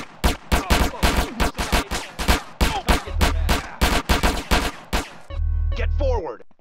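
Rapid bursts of gunfire from a pedestrian street fight in GTA San Andreas, loud close shots fired in quick irregular volleys, followed by a sustained rattling burst near the end, with shouting voices mixed in.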